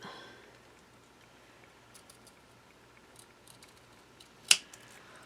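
Scissors trim small pieces for a Diagon Alley book nook: after near silence with faint handling, a single crisp snip lands close and clear.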